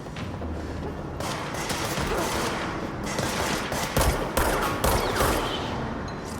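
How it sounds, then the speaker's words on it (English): Dense gunfire in the video game Control, a continuous barrage of rapid shots and thuds with bursts swelling toward the end, loud and close throughout with no voice over it. "I'm getting shot from down there."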